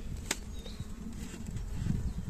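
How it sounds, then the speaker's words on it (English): Honey bees buzz steadily in a close, continuous drone while being transferred from a box into a hive, with occasional louder passes of single bees near the listener. "There's a lot of bees flying around."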